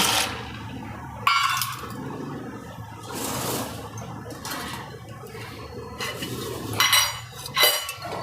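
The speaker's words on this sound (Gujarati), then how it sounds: "એમાં આપણે પાસ્તા નાખી દઈશું" Pasta dropped into a pot of hot water on the stove, with a close, continuous watery rush and some clattering of metal pot and utensil.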